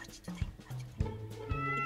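A cat in the video game Minecraft meows several times in quick succession, short clear tonal cries close up with brief gaps between them.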